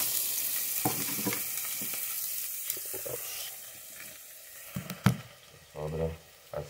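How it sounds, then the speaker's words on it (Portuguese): Onion and garlic sautéing in olive oil, with a steady sizzle and occasional scraping stirs of a utensil against the pan, close and continuous. "alho, cebola. Dá uma refogadita."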